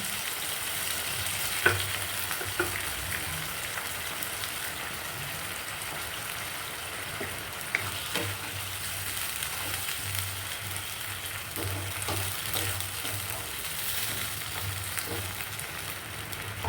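A pan sizzles steadily after chicken stock and sugar go in, a soft bubbling hiss with a few sharp clinks of stirring, close and continuous, with no talking.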